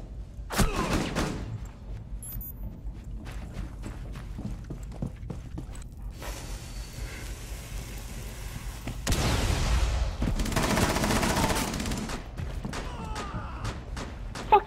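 Gunfire in Rainbow Six Siege, scattered sharp shots and thumps over a background hum with two dense loud stretches of rapid fire in the middle and a couple of sudden cracks at the end.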